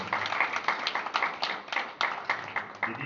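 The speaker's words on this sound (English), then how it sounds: "I think he deserves another round of applause" A small crowd claps in a steady patter of applause, moderately distant, with uneven bursts of hands throughout.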